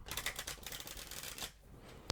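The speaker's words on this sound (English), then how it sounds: "the deck genuinely being shuffled together, like so" Deck of playing cards shuffled together up close, a quiet continuous riffling flutter that stops briefly near the end before a single sharp snap.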